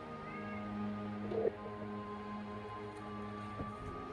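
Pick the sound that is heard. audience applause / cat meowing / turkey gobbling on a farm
cat meowing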